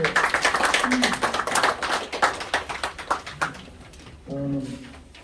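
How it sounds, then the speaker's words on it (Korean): Audience at a Korean lecture event breaks into brisk, dense clapping that fades out, followed by a voice over a hall public address. "여러분 다시 한번 감사의 박수 부탁드리겠습니다"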